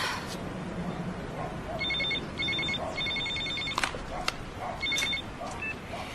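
A telephone rings in a dramatic scene, its electronic trilling bursts repeating several times in short, evenly spaced pulses over a background of clatter and room noise, moderately close.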